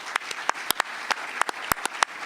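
A small audience at a tax law symposium applauds, with sparse, uneven claps heard up close over a light background murmur.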